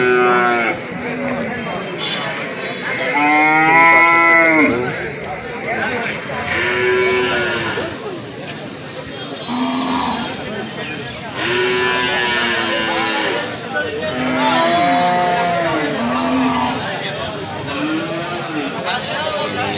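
Several cattle moo repeatedly, loud and near, with long drawn-out calls overlapping in a busy crowd with people talking throughout, at a large Eid al-Adha cattle market in Lauhati, Tangail, Bangladesh.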